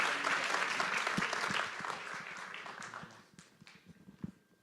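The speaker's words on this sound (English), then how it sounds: "let's give a round of applause for our panelists" A room full of people applauds panelists loudly, the clapping tapering off into scattered claps before dying away.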